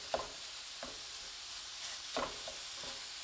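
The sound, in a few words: spatula mashing grass-fed ground beef in a pan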